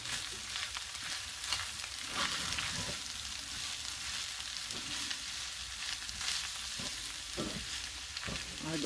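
Seasoned rice stirred in a hot pan for dirty rice, a steady soft sizzle with faint scraping strokes of the spoon, fairly quiet and continuous.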